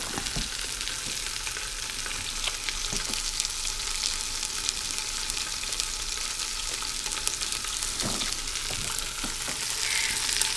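Pork chops sizzle in an Instant Pot, a soft, steady hiss of frying fat with small scattered pops and crackles, heard alone without talk.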